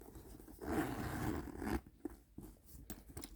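A zipper runs along a Coach handbag for a few seconds, with a long scratchy pull near the start and then several short, quieter tugs and scrapes close by.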